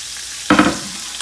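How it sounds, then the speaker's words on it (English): Garlic sautés in a pan for pancetta risotto, a sudden loud sizzle and stirring scrape that flares up and then settles into a softer frying hiss. "Keep those sauteing real good."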